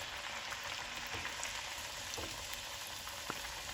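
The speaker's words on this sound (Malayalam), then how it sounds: "പിന്നെ കുട്ടി പൂരികൾ ഞാൻ ചുട്ടെടുത്തുകൊണ്ടിരിക്കുകയാണ്" Small masala puris deep-frying in hot oil, a steady dense sizzle and crackle with faint scattered pops, continuous and close throughout with no talking.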